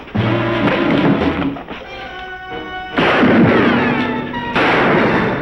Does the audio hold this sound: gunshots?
yes